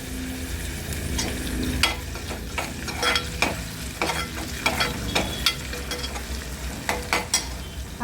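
Crushed ginger, curry leaves and onion fry in a pan, a constant close sizzle broken by irregular scraping clacks of a spoon stirring against the pan.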